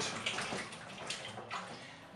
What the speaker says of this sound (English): washing our apples